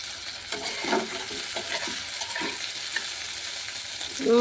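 Close sizzling in a pan with scraping stirring strokes and a few clinks, fairly loud, no voices.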